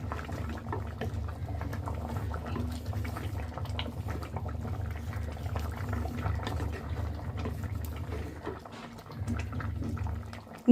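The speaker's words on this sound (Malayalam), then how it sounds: "ഇത് കണ്ട നല്ലതുപോലെ തിളച്ചിട്ടുണ്ട്" Low, steady bubbling of a pot of curry simmering on the stove, with soft popping and gurgling throughout, no voices.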